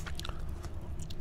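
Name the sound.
chewing gum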